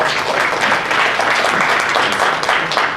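An audience at a developer conference presentation breaks into a round of applause, loud dense clapping sustained evenly throughout with no speech over it.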